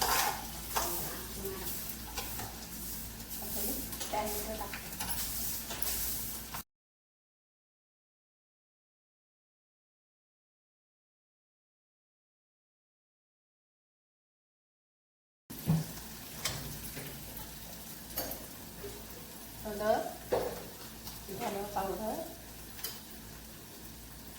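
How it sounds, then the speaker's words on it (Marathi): Onion frying in a pan for an ivy gourd (tondli) dish gives a soft steady sizzle with scraping stirs. The sound cuts to complete silence midway, then the frying and stirring resume. "टाकते कांदा खूप असं लालसर नाही होऊन द्यायचं"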